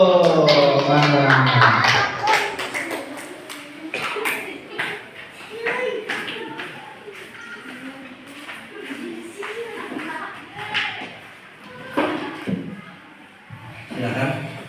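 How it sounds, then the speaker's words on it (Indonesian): A classroom audience breaks into loud, dense clapping for a couple of seconds, then a voice talks over a quieter room with occasional taps and shuffles. "Tepuk tangan dulu"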